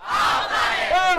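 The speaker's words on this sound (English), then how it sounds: "I'm standing here outside City Hall and there's around 500 people here, all campaigning to save the planet." A large crowd of around 500 climate strike protesters outside City Hall in Norwich, shouting and cheering together in a loud, sustained roar close by.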